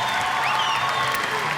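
Brazilian fans in the crowd at a beach volleyball semifinal at the Québec Open cheer and applaud, a dense, steady roar of clapping and voices that holds for a short burst, with commentary talk faintly underneath.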